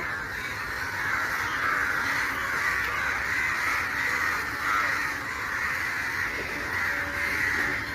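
Crows caw continuously in the background, a dense raucous chorus that stays steady throughout, with no talking.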